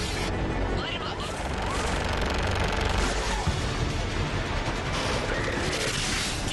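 Heavy gunship fire rains down during a Mass Effect 3 battle, a dense continuous roar of gunfire and explosions filling the scene at steady loudness, with radio-style voices speaking over it.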